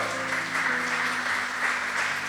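A church congregation applauds in a steady, even wash of clapping, with a low sustained hum beneath it and no speech.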